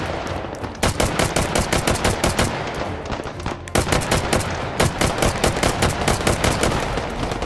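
Gunfire in the VR video game H3VR, rapid repeated shots in two long bursts split by a brief pause, loud and close with no talking.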